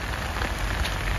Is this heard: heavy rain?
yes